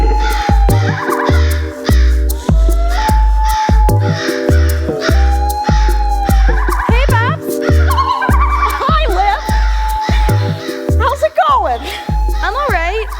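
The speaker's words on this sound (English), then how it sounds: "That, my friend, is the sweet, sweet sound of sweet, sweet crows making sweet, sweet love" Crows cawing as a comedic crow mating song in a college varsity show, a rhythmic run of loud, harsh calls over a steady beat and music, with voices mixed in.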